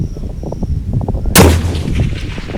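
A single loud Savage Axis 2 rifle shot fired at a 400-yard target cracks sharply midway, followed by a rolling echo across open terrain.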